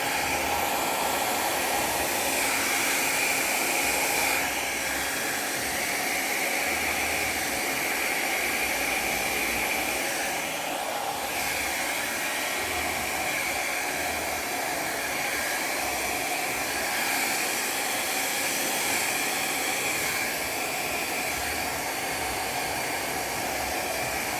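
Hair dryer blowing air over wet acrylic pour paint, a steady loud hissing whoosh that continues unbroken and close for the whole stretch.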